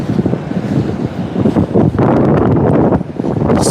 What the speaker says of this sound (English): But man, that wind is kicking up.